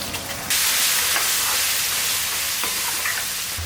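Ground tomato paste hits a hot pan of spiced onion masala for a tangy onion tamarind curry, flaring into a sudden loud hissing sizzle that holds steady with occasional stirring scrapes.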